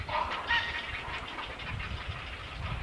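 Grey herons and egrets calling from a nesting colony behind a historic birthplace house in Cheonan, South Korea: scattered harsh squawks and chatter from many birds over steady background noise, with no speech.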